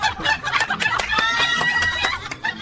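A parrot squawks in a courtroom, giving a loud, close run of harsh, rapid, repeated cries that come in uneven bursts.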